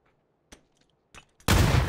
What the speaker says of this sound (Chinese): 这个雷，操，怎么这么爆炸？